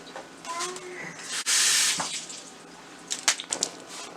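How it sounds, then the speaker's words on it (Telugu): Water sprinkled over layered chicken dum biryani covered with tissues, giving a brief loud spray-like splash mid-clip, with faint clinks and background noise around it. "ఇలా వాటర్ స్ప్రింకిల్ చేసుకొని"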